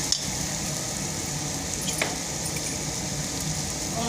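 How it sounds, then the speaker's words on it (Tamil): Boiled mutton sautéing with tomatoes and masala for a biryani, a steady close sizzle and crackle throughout with faint stirring clinks. "அதையும் போட்டு நம்ம நல்லா வதக்கிக்கலாம். 2ஐயும் ஒன்றா போட்டு வதக்கிக்கலாம்"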